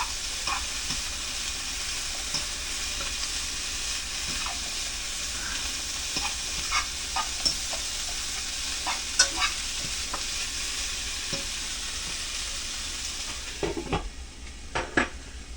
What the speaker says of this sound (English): Ooh, listen to that chicken sizzle.